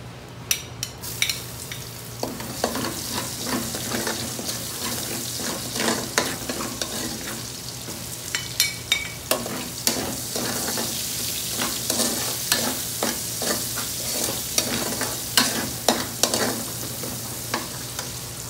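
Garlic and onion sizzle in a hot pan, stirred with a utensil that gives repeated scraping clicks over a steady frying hiss.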